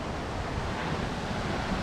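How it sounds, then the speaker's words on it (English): A small waterfall along a hiking trail in Mount Diablo State Park gives a steady, broad rushing wash of falling water, moderately loud and unbroken, with no voices. "Oh, there's a little waterfall in there."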